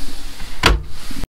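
A cutlery drawer slides open in the kitchen of a 2017 IH 630RD caravan, one quick, loud sliding rush followed by a brief thud, then silence.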